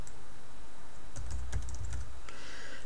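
Keys clack on a computer keyboard as text is typed into a word processor, a short cluster of close taps after a quiet pause, with no talking.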